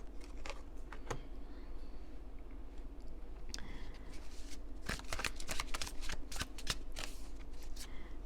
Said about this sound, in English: But let's draw a couple more cards here.